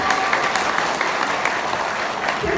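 Audience at a talk applauding steadily and fairly loudly throughout, a dense continuous patter of many hands with no voices over it.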